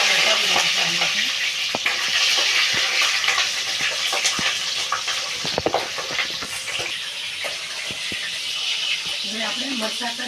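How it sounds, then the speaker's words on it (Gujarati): Chillies fry in hot oil with a steady, close crackling sizzle that runs throughout. Sharp clicks and scrapes of stirring break in, and a voice talks over it in places. "હવે તેલ આવી ગયું છે. આપણે મરચાંને તળી નાખવાનું છે"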